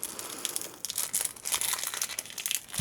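A paper leaflet from a puzzle cube box crinkles and rustles close up in quick, uneven bursts for a few seconds.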